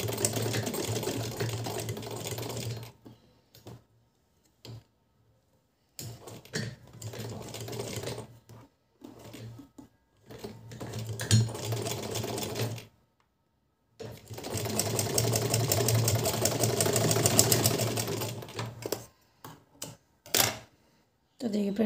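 A sewing machine stitches velvet doll clothing in several bursts of close, rapid whirring, separated by pauses, with someone talking in between.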